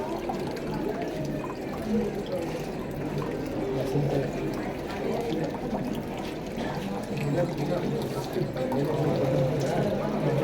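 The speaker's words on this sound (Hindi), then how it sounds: "हम लोग मोटर पंप बनाए हैं," A small model motor pump at a school science exhibition moves water in a continuous trickling, pouring flow, with voices murmuring in the background.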